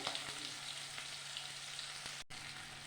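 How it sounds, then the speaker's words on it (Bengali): Prawns frying in mustard oil in a pan, a steady close sizzle with faint crackles and no talk. "মাছগুলো হালকা করে ভেজে নিয়েছি"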